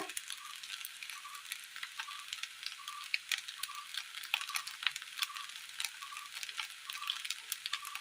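A tomato and spice mixture is stirred in a pan, giving a soft, steady sizzle with faint scraping and ticking of the spoon, quiet and close with no talking.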